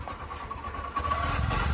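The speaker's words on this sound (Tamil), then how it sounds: "வண்டியோட சவுண்டை பார்த்துங்க." A rebuilt Honda Shine 125 BS6 motorcycle engine with a new cylinder kit, head and camshaft runs at a steady idle, a close, even mid-pitched drone that grows slightly louder toward the end.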